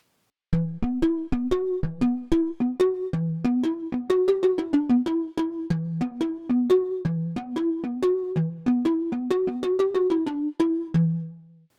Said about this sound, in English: it's called Sticks on Wood